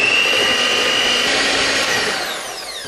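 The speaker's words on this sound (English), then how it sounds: "Okay, let's whisk it." Mint chocolate mousse mixture being whisked in a kitchen, a loud, steady whirring that runs without a break and eases off slightly toward the end.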